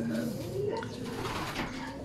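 Racing pigeon with a MacArthur leg band, back from a training toss, cooing softly and close against a steady background hum, with faint clattering and a voice nearby.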